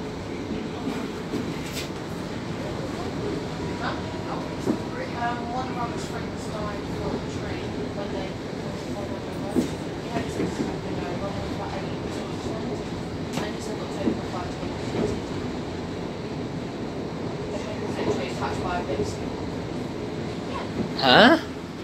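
Inside a Class 700 Thameslink train under way, a steady rumble and rolling rail noise with occasional clicks and knocks, and a louder squeal or rattle near the end.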